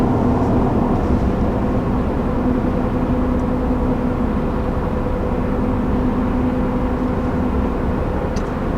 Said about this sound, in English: there's a little bit more tire noise on this just for having the off-road worthy tires